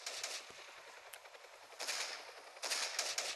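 Rapid automatic gunfire rattles in the mobile shooter game Tacticool, with bright crackling bursts that swell and fade across a few seconds and get louder toward the end, with no talking.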